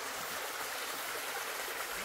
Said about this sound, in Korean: 물소리와 함께